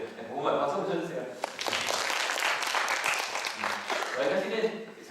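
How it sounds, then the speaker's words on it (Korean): Applause from a church congregation during a Sunday worship service, a broad burst of clapping that swells in the middle and tapers off, with talking voices heard before and after it. "박수 한번 쳐주세요."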